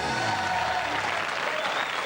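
Studio audience applause on a French television variety show, a full, steady burst of clapping with some crowd noise, continuous from start to finish.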